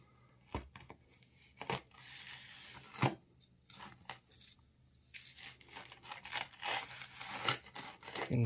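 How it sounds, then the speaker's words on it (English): Butcher knife cutting down through a block of dried clay, with irregular crunching and scraping bursts, some sharp, growing busier toward the end. "Let's pull out the old butcher knife and slice her down the middle."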